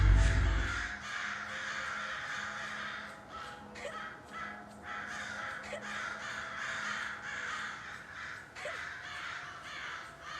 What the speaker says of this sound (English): that must have really pissed off the crows